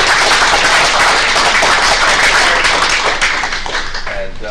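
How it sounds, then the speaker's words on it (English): Audience at a township board of education meeting gives a round of applause, close, fairly loud clapping from a modest crowd that thins slightly toward the end, with a voice briefly audible. "how about one more round of applause"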